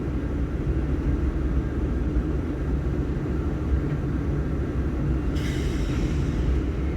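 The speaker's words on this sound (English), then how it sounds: "This train is coming off of the Blair Fremont division, the former C&W main line" A westbound manifest freight train passes through Fremont, Nebraska, off the Blair–Fremont division on the former C&NW main line, a steady, moderately loud low rumble with a brief metallic screech near the end and no talking.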